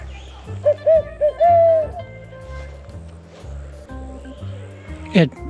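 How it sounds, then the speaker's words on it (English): Several low hoots from an owl sound up close, spaced unevenly, over a steady low hum, followed by a brief rising call near the end. "Over here, though, a loud owl"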